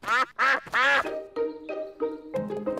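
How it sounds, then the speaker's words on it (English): Cartoon ducks on a pond in a Peppa Pig episode quack in loud, nasal bursts: three long honking quacks followed by a run of shorter, lower ones. "The ducks are swimming in their pond."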